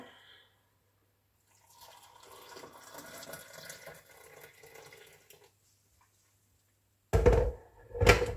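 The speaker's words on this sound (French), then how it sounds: "Oh, j'ai peut-être mis beaucoup d'eau." Water is poured from a spoon or container into a mixture in a bowl, giving a soft trickle for a few seconds, then two louder close knocks or splashes near the end, no talking.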